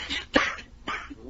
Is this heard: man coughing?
yes